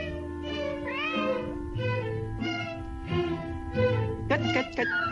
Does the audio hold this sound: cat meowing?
yes